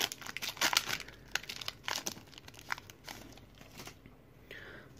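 A Pokemon TCG Celestial Storm booster pack wrapper is snipped open and crinkled close up, with bursts of crackly plastic rustling and a brief quiet snip near the end, while a voice talks lightly.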